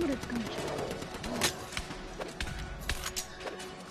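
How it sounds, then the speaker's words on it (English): Several sharp gunshot bursts crack out at irregular intervals over a busy, noisy game soundscape. "Come to the gunshots."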